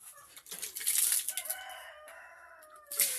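Chickens in a poultry room on a small farm cluck and squawk up close, a short burst of rising calls and chatter with no talking.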